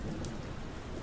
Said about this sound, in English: the constant light tapping of the cold rain against a barren and deserted concrete jungle creates a somber feeling like none else